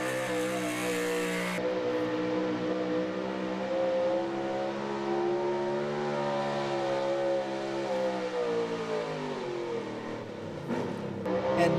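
A pulling truck called Mutiny makes its pass at a truck and tractor pull, its engine revving loud and sustained, pitch climbing and wavering through the run before dropping off near the end.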